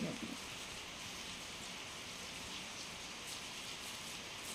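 Steady rain falls outdoors, a continuous even hiss of drops on surfaces with no voices.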